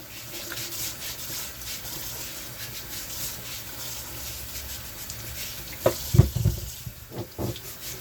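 Running tap water at a kitchen sink as food for a Thanksgiving meal is washed before roasting, a faint steady stream with louder splashing bursts near the end.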